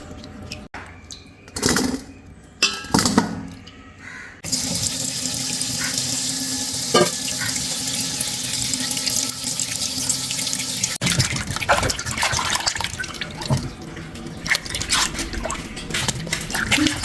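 Tap water runs and splashes into a sink as peeled yam pieces are rinsed. Handling sounds and sloshing come first, then a steady stream of running water continues for most of the time, with clinks and splashes over it.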